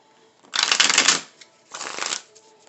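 Tarot cards riffle-shuffled in two close bursts, the first longer and louder, with a short pause between; no talking.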